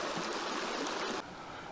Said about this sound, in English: Nice little cascade.